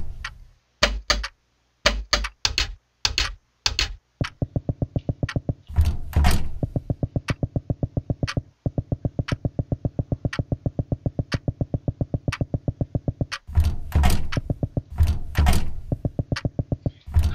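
Doors rattling in the Paranoiac horror game, starting with several separate knocking thuds and then a long fast run of regular clattering beats as a locked door is shaken, all close and with no talking.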